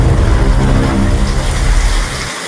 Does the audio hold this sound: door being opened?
no